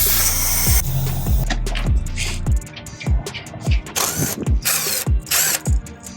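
A ratchet works a bolt off a truck shock absorber in a cramped spot on a Gen1 Ford Raptor, giving repeated short clicking bursts up close after a loud mechanical rumble at the start.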